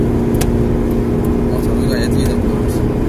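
A 1998 Mazda Lantis engine pulls steadily uphill in fourth gear, a constant loud drone and road rumble from inside the car, with a voice talking over it.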